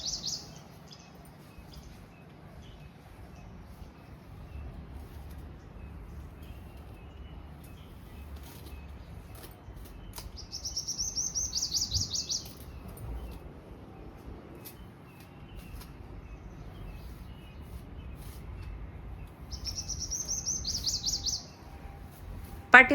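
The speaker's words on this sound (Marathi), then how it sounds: "पाठीमागे मस्त चिमण्यांचा चिवचिवाट ऐकायला येत होता" Sparrows chirping in a home garden during a morning routine, faint and some distance off, in two short bursts of high twittering over a quiet room.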